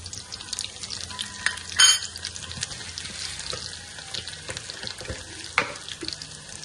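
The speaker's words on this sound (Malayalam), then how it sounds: "ഇത് കുറച്ച് കടുക് ഇട്ട് കൊടുക്കാം കേട്ടോ. ചുവന്നുള്ളി, ചെറിയുള്ളി ഇട്ട് കൊടുക്കാം." Mustard seeds and small shallots fry in hot oil for a tempering, giving a steady close sizzle and crackle with a few spoon scrapes and clinks on the pan, meant for a jackfruit erissery.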